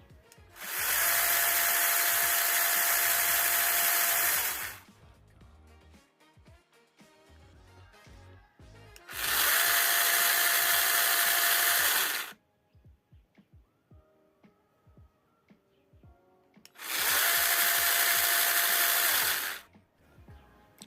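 A cordless mini chainsaw, an INTERTOOL WT-9110, whirs up three times in a high, buzzing whine with a slow start, each run lasting a few seconds with quiet handling noise between.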